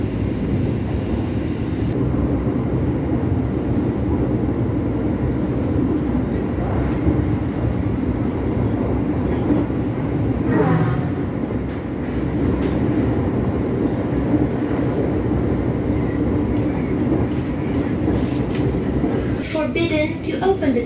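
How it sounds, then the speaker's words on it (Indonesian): A Ranggajati passenger train runs steadily on the rails, a continuous rumbling roar with faint clatter throughout, while voices murmur underneath. "kereta api Ranggajati menyilang kereta api Bengawan yang berhenti di stasiun ini"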